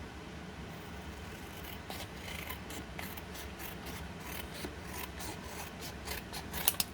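A food packaging bead is cut, with a faint, steady rasping and scraping texture that carries on throughout, punctuated near the end by a couple of small sharp clicks.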